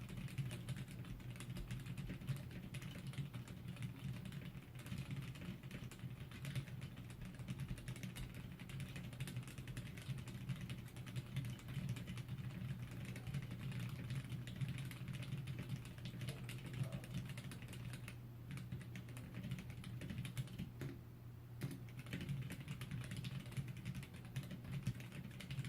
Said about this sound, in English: here is a typing demonstration